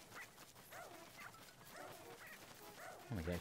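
Cartoonish dog barks and yips from the video game Pikmin 4, a string of short bright calls repeating through the clip over busy game music and effects, with a louder thump near the end.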